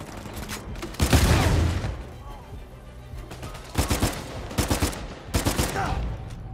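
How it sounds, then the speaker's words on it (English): A grenade launcher fires in the Uncharted 4 video game, giving several loud bursts and booms in uneven clusters with quieter gaps between them. "Grenade launcher."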